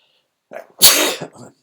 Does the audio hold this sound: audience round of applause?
no